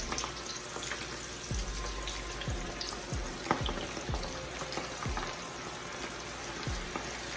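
Southern fried chicken frying in a hot cast iron skillet, a steady dense sizzle and crackle close up with occasional low thumps, continuous and unbroken, no talking.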